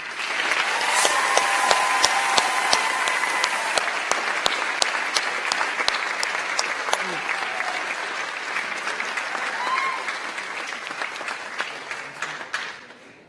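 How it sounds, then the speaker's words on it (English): An audience at a university homecoming awards show breaks into applause, dense clapping that swells quickly, holds, and then slowly thins out, with a few scattered voices underneath. "One last round of applause for everybody."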